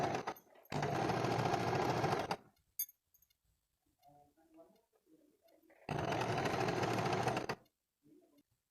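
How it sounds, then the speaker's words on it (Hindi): A sewing machine stitches a kurti seam in two loud, steady bursts of whirring about two seconds each, separated by a quiet gap with faint soft sounds. "अब हम इसको सिलाई कर देते हैं।"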